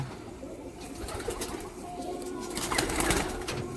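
High-quality pigeons cooing in a loft, several birds' soft throaty calls overlapping close by, growing slightly louder toward the end.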